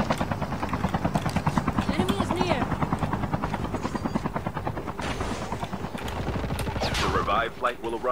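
A helicopter in the Call of Duty: Mobile game gives a loud, steady rotor chop throughout, with bursts of gunfire over it and a voice talking now and then.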